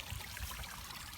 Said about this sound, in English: nice flow of water coming out of the water fountain